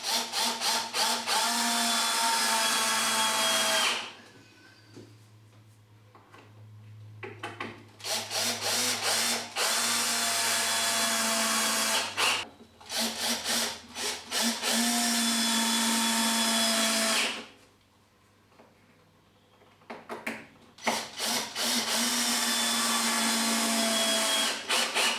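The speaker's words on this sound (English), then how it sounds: "we can put a couple of screws in this piece" Power drill driving screws into the cross member of a wooden garden gate: three long, loud, close whining bursts separated by quieter pauses full of clicks and handling sounds.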